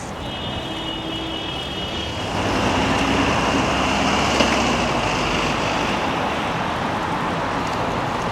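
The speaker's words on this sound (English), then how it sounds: "it's still windy" Steady, loud broadband wind roar buffeting the microphone while cycling in a bike lane on Queens Boulevard, rising a notch partway through and continuing without pause; a faint high whine sits over it early on.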